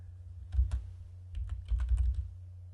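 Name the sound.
typing on a computer keyboard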